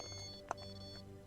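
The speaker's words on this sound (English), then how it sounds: "It'll make a high-low beeping sound if the temperature changes in that direction." A temperature sensor device used during a night-time paranormal investigation gives a single short, clear beep partway through, standing out over a faint steady electronic hum.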